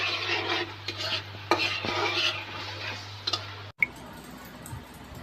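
Homemade banana chips fry in a little oil with a light sizzle. Frequent scraping and tapping stirs sit close up, a low hum cuts out near the end, and no voice is heard.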